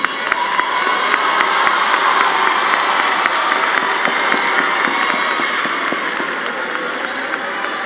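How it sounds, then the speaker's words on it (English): A large audience at a high school graduation claps loudly and continuously, a dense roar of hands with sharp individual claps standing out and some cheering mixed in. "Please give them a round of applause."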